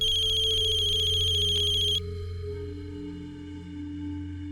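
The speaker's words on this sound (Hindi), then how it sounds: "फोन आ रहा है उसी का।" A phone rings with a bright electronic tone that cuts off after two seconds, leaving a low steady hum beneath.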